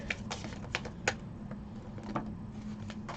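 New, slippery tarot cards being shuffled by hand, giving a close run of soft, uneven papery clicks and flutters with a few sharper snaps.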